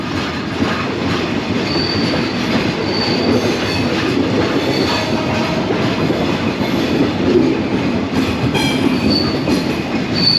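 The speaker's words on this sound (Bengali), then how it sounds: "ঠিক এই জায়গা থেকে ট্রেনটি লাইন চেঞ্জ করছে" The Sundarban Express switches tracks with a loud, continuous rumble of rolling railcars, high metallic wheel squeals rising over it and faint rhythmic clacking throughout.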